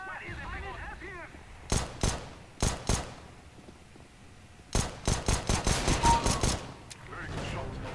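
Pistol shots in a video game ring out as sharp, loud cracks, first two single shots, then a rapid string of about eight after a short pause, with a faint voice-like sound at the very start.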